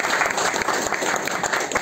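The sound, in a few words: audience applause in an office meeting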